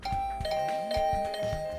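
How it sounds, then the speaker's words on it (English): A doorbell in a video game chimes several times in quick succession, bright ringing tones repeating close together over a low backdrop for about two seconds. "The sudden barrage of doorbell rings took me by surprise"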